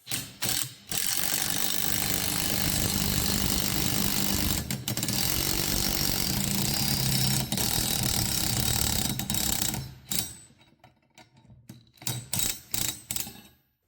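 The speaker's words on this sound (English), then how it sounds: "So this is just a 2-legged puller. Pull the snap ring out, and we're going to wind them off." A two-legged puller is wound to draw gears off an air-cooled Porsche 3-liter SC crankshaft. A loud, continuous, close ratcheting grind runs about ten seconds, then stops, leaving scattered short clicks.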